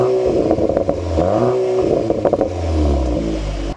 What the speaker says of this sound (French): on a également un échappement spécifique en option sur cette voiture, c'est le système Akrapovic à 4 sorties en titane.